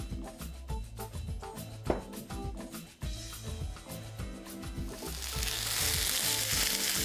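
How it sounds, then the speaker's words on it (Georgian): A chakapuli roll sizzles in a little oil on a preheated grill pan, a steady crackling fry with some clattering that swells into a louder, denser hiss toward the end. "თანაბრად დავბრაწავ ყველა მხრიდან, ხაზები ექნება და შემდეგ ღუმელში დავასრულებ."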